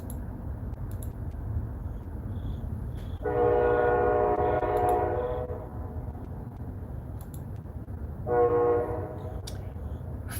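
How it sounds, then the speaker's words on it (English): A train horn sounds two long blasts, the first lasting about two seconds and a shorter one after, over a continuous low rumble of a passing train, loud and fairly close. "Charlie the Train."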